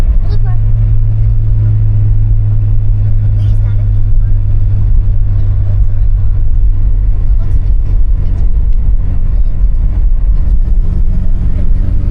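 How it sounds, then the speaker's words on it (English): A Volvo 240 downshifting and engine braking down to a crawl, its engine droning loud and close, lowering in pitch as the car slows, heard from inside the cabin. "Downshift, and we're going to basically engine suspension brake the car all the way to a very slow speed"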